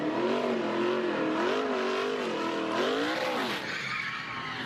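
A race truck does a burnout at Talladega, its engine wailing in rising and falling revs over a steady tire squeal, loud and close, before the noise drops away near the end.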